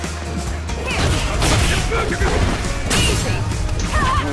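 Throw attack in the Street Fighter V fighting game lands among dense, repeated smacks and crashing impacts, loud and busy throughout.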